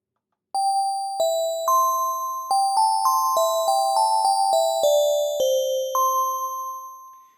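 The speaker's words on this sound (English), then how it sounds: "There are a couple of different wavetable oscillator patches that are good for making bell sounds." Bell-like tones from the wavetable patch 10 Signs on Reason's Thor synthesizer ring out as a sequence of about a dozen struck, sustained notes at varying pitches, clear and loud with bright shimmering overtones and no talk.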